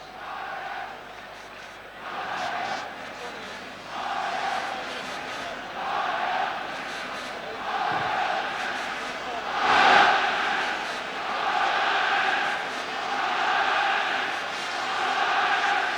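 A crowd of 65,000 fills the Olympic Stadium built for the 1928 Olympics, awaiting the teams before Ajax against Nottingham Forest, a broad distant roar with rhythmic rising chants, under a commentator's voice.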